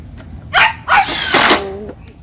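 A dog at home barks three times in quick succession, loud and close, the barks rising into short yelping tones.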